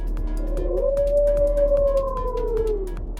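A game master imitates a wolf howl with his voice, one long rising and falling tone held for about two seconds over a steady background hum, with faint rhythmic taps underneath.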